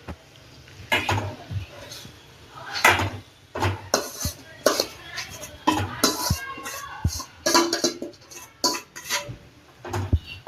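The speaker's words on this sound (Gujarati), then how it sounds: "હવે બધું આ બધું મસ્ત એકદમ મસ્ત મિક્સ કરી દેવાનું." Mashed potatoes being mixed into a cooked mixture in a metal pan for a frankie recipe, with repeated scraping and clanking of a spoon against the pan in irregular bursts, loud and close, with no talk.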